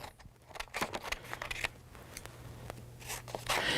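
Scissors cutting out paper pieces, a close series of crisp snips and rustling paper in an irregular rhythm, quiet and alone.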